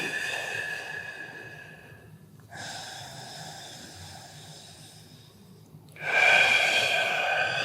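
Slow, deep breaths during a yoga hold, each long airy inhale or exhale heard close and alone, with the last breath noticeably louder and stronger.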